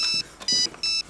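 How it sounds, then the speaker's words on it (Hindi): A mobile phone rings in a repeating electronic pattern, three bright beeping bursts with short gaps between them, loud and close, in a Pakistani comedy drama scene with no talk over it. "आपका फोन आ रहा है"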